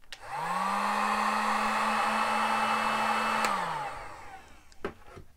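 Heat gun blowing on heat shrink over a resistor lead for model railroad LED wiring: a steady close, loud motor whine and rushing air, running about three seconds before winding down, followed by a few small clicks.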